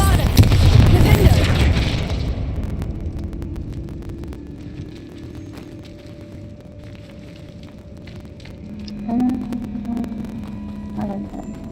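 Spell explosions from Confringo and Bombarda in Hogwarts Legacy: a loud, booming blast at the start decays into a long rumbling tail, followed by quieter hum and a couple of small later bursts.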